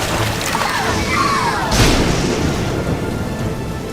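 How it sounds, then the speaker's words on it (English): Heavy storm with hard rain pouring steadily and a loud crack of thunder booming partway through, the downpour continuing unbroken around it. "Look, another storm is coming."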